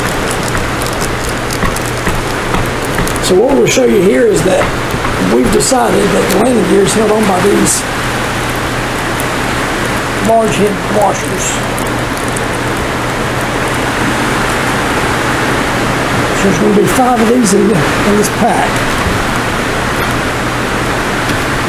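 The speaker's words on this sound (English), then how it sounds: "Sorry for the rain, guys. We got a tin roof. It just started storming." Heavy rain from a storm drums steadily on a tin roof, a constant broadband hiss that continues under a voice speaking through most of the stretch.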